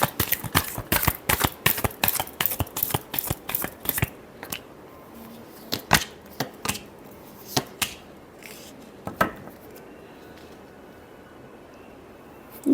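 A tarot deck is shuffled by hand, with a quick run of crisp riffling card slaps at first, then sparser taps and flicks that fade toward quiet, close and clear.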